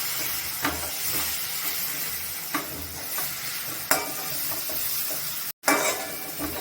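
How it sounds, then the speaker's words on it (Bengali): Tomatoes fry in a pan with fried onion, chili powder, coriander powder and chopped ginger and garlic under a constant close sizzle, with occasional clinks and scrapes as the mix is stirred. "লঙ্কার গুঁড়ো, ধনের গুঁড়ো, আদা রসুন কুচি দিয়ে ভালো করে মিক্স আপ করা হচ্ছে।"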